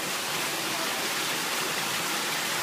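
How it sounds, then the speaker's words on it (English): A small waterfall at a swimming pool gives a steady, even rush of falling water that fills the whole clip with a constant close wash and no voices. "A little waterfall action."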